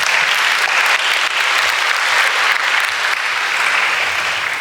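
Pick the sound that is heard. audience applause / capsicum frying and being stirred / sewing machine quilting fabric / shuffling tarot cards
audience applause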